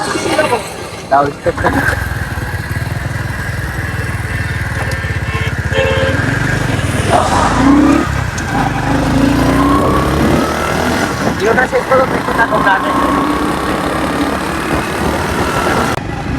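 A motorcycle carrying two riders hums along with a steady engine drone and passing road rumble, while people talk over it close by.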